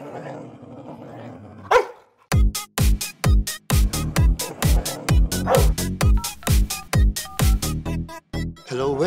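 Small puppies bark in a rapid, loud, close series of sharp yaps, around fifteen in quick succession, with a brief whine before them.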